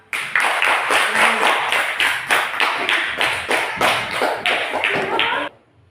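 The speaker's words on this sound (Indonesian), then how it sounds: "Baik, silakan kasih tepuk tangan." Applause from a primary school class audience after a student presentation: steady close clapping from a group lasting about five seconds, then stopping abruptly.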